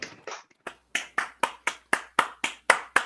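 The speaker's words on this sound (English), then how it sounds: "Let's give a round of applause to all those who have helped along the way." A round of applause at a Sigma Pi Sigma induction ceremony, heard as a dozen crisp, separate claps in a fairly even rhythm, close and clear with short gaps, more like a single pair of hands than a crowd.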